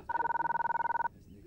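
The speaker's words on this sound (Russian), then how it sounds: "Телефон." A telephone bell rings in a fast, even trill of about twenty rapid pulses lasting roughly a second, loud and clear, then stops into a quiet room.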